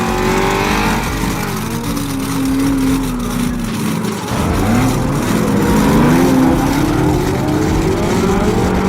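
A 5.9 liter pushrod V8 muscle car with independent rear suspension races a 2.3 liter turbocharged American car in a drag race, with loud, steady engine roar and rising revs close by and no talk.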